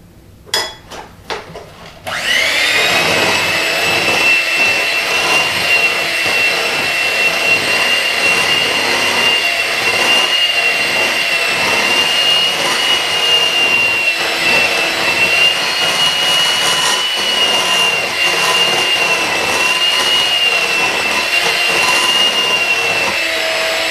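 An electric mixer beats chocolate chip cake batter, starting after a few brief clatters and then whirring loudly and steadily with a high motor whine for the rest of the time.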